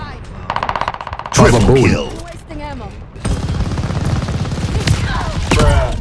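Automatic MP40 submachine gun fire in a free-for-all video game match, loud bursts of rapid shots over heavy game noise, with people talking over it.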